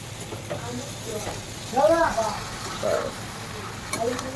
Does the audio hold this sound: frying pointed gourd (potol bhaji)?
yes